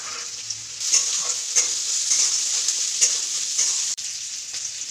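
Vegetables fry in hot oil with a steady bright sizzle, broken by periodic stirring scrapes about every half second and a brief dip near the end.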